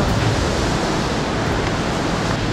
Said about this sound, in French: J'aime les chutes